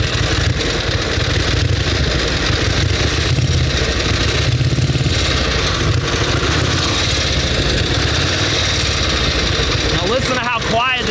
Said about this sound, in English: Now listen to how quiet this motor is, Steve.